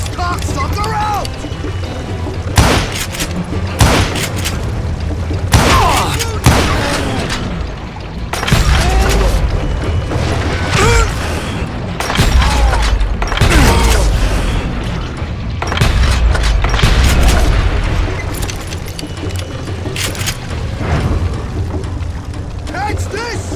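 Dynamite blasts in Call of Juarez: Gunslinger, several loud booming explosions and sharp bangs spread through a chaotic firefight, with voices shouting throughout.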